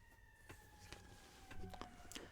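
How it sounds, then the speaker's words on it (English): A faint, steady siren tone drifts in from a distance, with scattered clicks and soft background noise around it. "Another siren."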